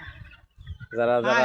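Domestic desi chickens on a home poultry farm cluck and call, a loud harmonic burst near the end following brief talk.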